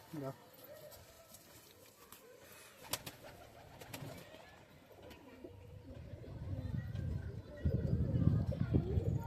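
Desi pigeons, including giribaz tumbler pigeons, fluttering and cooing as they are released from a loft, soft low coos and wing rustles building toward the end beneath a voice.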